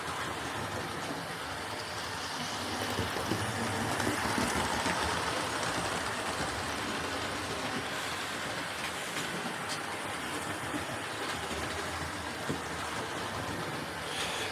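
A Dapol Hinton Manor model locomotive runs along its track with a steady, continuous whirring rumble that holds at an even level throughout, with no voices.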